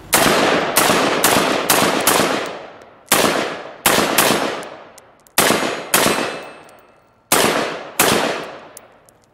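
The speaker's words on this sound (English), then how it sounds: "So we're gonna fire this in both left and right-handed configurations." Rifle fire at a target with an M4 carbine carrying a GPS upper mount, a series of about a dozen loud, sharp cracks, some in quick bursts and others spaced apart, each followed by a decaying echo.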